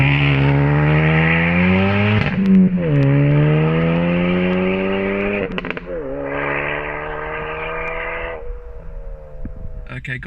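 A 450 bhp Mk3 Ford Focus RS accelerates hard with a loud, close engine roar that climbs through several gear changes, each marked by a brief break before the pitch rises again.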